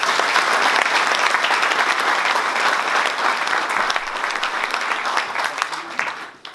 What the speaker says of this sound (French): Je vous demande d'applaudir très chaleureusement Anthony Benamou.